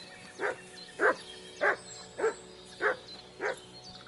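Mutt the dog in Kingdom Come Deliverance 2 barks six times in an even, steady rhythm, each short woof clear and moderately close over a quiet game ambience.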